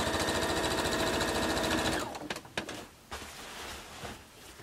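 A sewing machine runs fast and steady, stitching a T-shirt quilt seam with a dense whirring buzz for two seconds, then stops, leaving scattered handling clicks and rustles close by.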